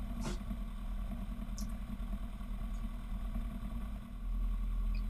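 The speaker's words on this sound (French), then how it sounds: "Les essais moteurs." A light aircraft engine running at a small airfield during pre-takeoff engine checks, a steady mid-level drone with a faint clatter and a brief sharper burst near the start.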